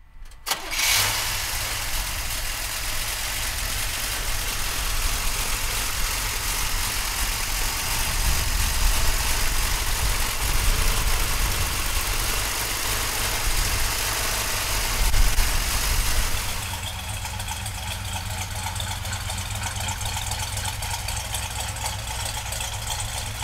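A big V8 in a 1970 Chevrolet Chevelle convertible, an LS6, cranks and roars to life, then settles into a loud, steady, rumbling idle close by with a slightly lumpy beat.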